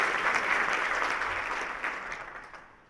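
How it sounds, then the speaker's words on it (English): Applause from the audience at a county State of the County address fills the clip, a dense steady patter that slowly fades toward the end, with no voices over it. "give them a round of applause"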